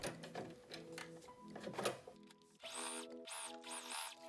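Domestic sewing machine stitching a topstitched seam allowance on a shirt, running in several bursts of rapid mechanical whirring with short pauses between, close and fairly quiet.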